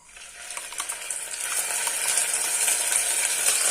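Steady sizzling of a blended milk mixture being sautéed in a hot pan for rice kheer, starting quieter and building into a continuous crackling hiss with faint scraping clicks, close by and with no talking.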